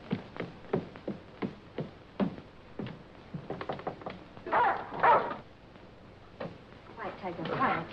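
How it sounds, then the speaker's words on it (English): Dog barking with short sharp yaps and whimpers in a rhythmic series, close by, mixed with people talking over it. "It's beautiful, the dog."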